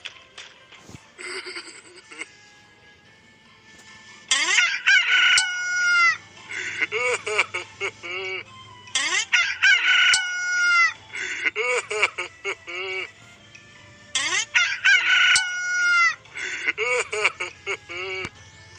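A rooster crows loudly in an animated Hindi children's Bible story, with several drawn-out, strained calls repeating in bursts and short pauses between them.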